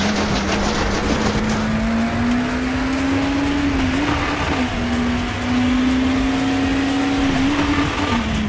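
Race car engine in RaceRoom Racing Experience, a steady loud drone holding a near-constant pitch throughout with small shifts, alone without talk.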